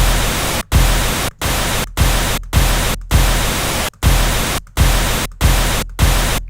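Steady pink noise for mixing beat levels plays loud and continuous, broken by brief regular dropouts roughly every half second to second, with no voices.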